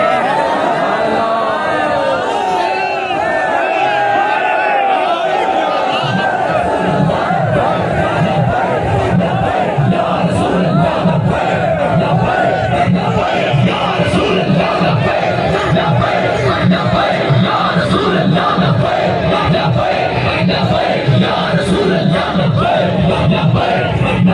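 A large crowd at a religious political rally and long march chants slogans loudly and continuously, a dense roar of many voices with rhythmic shouted calls throughout.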